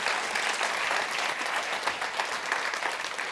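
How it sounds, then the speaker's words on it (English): Applause from a conference audience for a panel speaker at MozFest, a dense, sustained clapping texture at moderate level throughout with no voices over it. "All right, big round of applause for Marisha Shaka"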